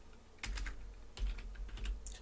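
Several quick clusters of keystrokes on a computer keyboard as a Linux command is typed, close and quiet, in short irregular bursts.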